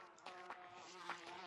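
Buzzing bees in a video game chase sequence, a steady insect-like drone with shifting tonal whine throughout, fairly loud and continuous with no talk over it.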